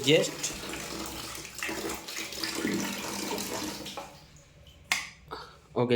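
Water runs from the tap of a mini portable instant water heater, a steady splashing stream into a sink that stops partway through, followed by a few brief clicks and splashes.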